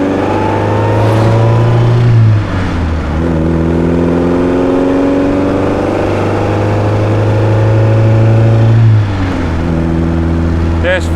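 A 1956 Austin-Healey 100-4 BN2 engine revs and pulls up through the gears, its steady drone rising in pitch with each gear held, dropping briefly at two smooth shifts before climbing again, loud and close throughout.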